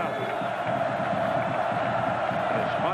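About 95,000 fans at a 1992 Penn State versus Miami college football game in Happy Valley make a loud, continuous stadium roar that stays steady without clear peaks.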